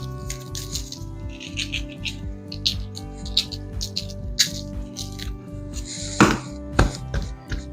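Seasoning rub patted by hand onto raw ribs for smoking, soft close dabs and taps repeating irregularly over a steady musical bed, with a couple of sharper clinks near the end.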